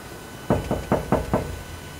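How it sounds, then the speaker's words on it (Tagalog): Five sharp knocks in a quick, even sequence against a quiet background inside an abandoned resort in Pagudpud, each a dull wooden rap. "Ikaw ba yung kumatok?"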